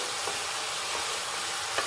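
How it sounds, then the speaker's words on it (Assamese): Cucumber sizzles steadily in a hot pan, a constant hiss broken by a few soft stirring scrapes. "প্ৰথমতে অলপ তিয়ঁহখিনি ভাজি লওঁ।"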